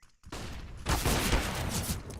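Pistol gunfire during a Counter-Strike pro match round, several quick sharp shots in close succession, loud and near, with a brief pause before a denser volley.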